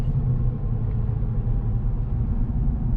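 A 2019+ Ram 1500 with a 5.7L Hemi V8 and a Borla S-Type catback exhaust idles in cylinder-deactivation four-cylinder mode, a deep, steady, muffled low rumble with no voices.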